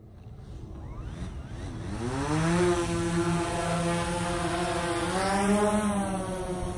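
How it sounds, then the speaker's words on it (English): Small camera drone spinning up its propellers and lifting off for a mapping flight over an open park, a loud steady whine that climbs in pitch as it launches and then holds a rising, buzzing tone close by. "we're gonna go ahead and tap on start and launch the drone"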